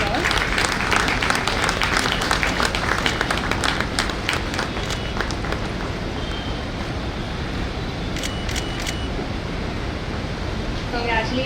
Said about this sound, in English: Let's give him a loud round of applause.